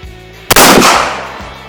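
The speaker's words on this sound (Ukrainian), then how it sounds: "Наступний постріл здійснюємо набоєм спорядженим дроб'ю номер 3" A single loud, close shotgun boom, fired with No. 3 birdshot at safety glasses in a strength test, that cracks sharply and then rolls away into a fading echo.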